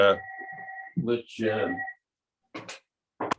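A telephone rings in short electronic bursts with steady tones, sounding among spoken voices in an indoor discussion, each ring brief and fairly close.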